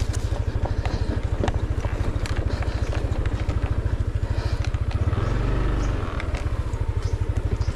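A motorcycle labors up a steep, winding mountain road in Cebu, its engine pulsing steadily and close by throughout, with a brief swell in effort near the end.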